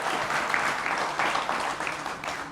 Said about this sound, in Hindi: एक बार फिर जोरदार तालियों के साथ अभिनंदन है।